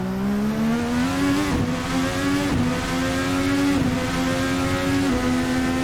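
A racing car engine in a racing video game revs steadily under throttle, a loud continuous drone with pitch that climbs and dips through several gear shifts, heard alone without talk.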